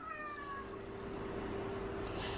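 A black cat meows a few times near a rural shed conversion site with farm fields, short descending cries early on over a steady background hum.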